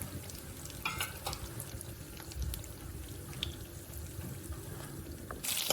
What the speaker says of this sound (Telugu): పల్లీలు మంచిగా వేగాలి.